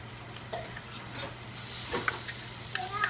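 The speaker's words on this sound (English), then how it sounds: "We're going to fry these ingredients up together" Red curry paste and garlic fry in a pan with a soft, continuous sizzle that brightens partway through, punctuated by light scraping and utensil taps from stirring, near and fairly quiet.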